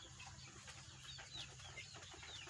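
Chickens clucking faintly at a distance, with scattered soft calls over a low outdoor background.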